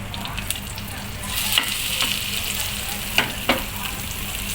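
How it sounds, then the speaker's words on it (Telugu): An omelette fries in a pan for a sandwich, making a close, steady sizzle broken by a few sharper spits and crackles, with no talking. "ప్యాన్లో పోసి ఆమ్లెట్ వేసుకోవాలి. అయితే ఇప్పుడు ఆమ్లెట్ సగం ప్రోగ్రెస్లోకి వచ్చింది."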